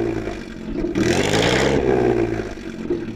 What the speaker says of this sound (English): And finally, Mike, rev up your Blower.